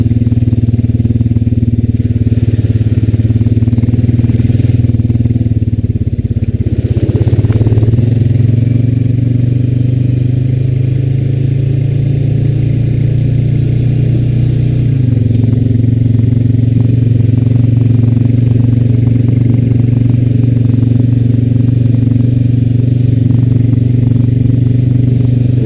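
A Honda Rancher 420AT ATV engine drones steadily and loudly while riding past old tobacco fields. The pitch shifts slightly mid-ride, and the engine carries an ongoing rattle and clatter from the machine. No voices are heard.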